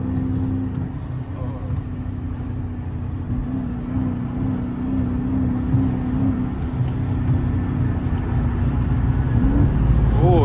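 A Dodge 392 Scat Pack's engine hums and builds in pitch and loudness, revving up as it accelerates through traffic, heard from inside the vehicle.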